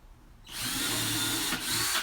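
A power drill bores pilot holes into wood desk pieces, its whine starting abruptly and running steadily with a brief dip before it resumes, close and fairly loud.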